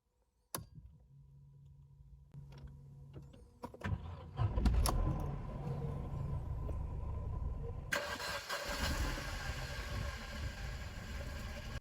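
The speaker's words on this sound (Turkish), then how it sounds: "Arabanın içeriden bir sesini alacağım." A Mercedes C180 W204 starts up as heard from the cabin: a few faint clicks and a key jingle, then the starter cranks, the engine catches and settles into a steady idle with a fan or blower rising in the background.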